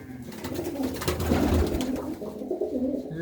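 Domestic pigeons kept by a village hobbyist coo in low, throaty, rolling phrases, close by and fairly loud, repeating over a few seconds with a little background noise.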